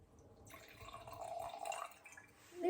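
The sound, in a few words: pouring a little red wine into a glass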